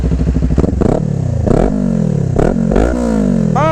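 A motorcycle engine that has just started idles roughly, then gets several sharp throttle blips. Each rev climbs and falls back, loud and close, with a final rising whine at the end.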